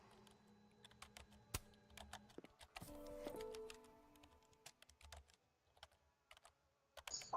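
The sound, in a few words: character typing on a computer keyboard in Life is Strange video game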